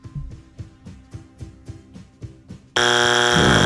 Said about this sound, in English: That was a very delayed buzzer.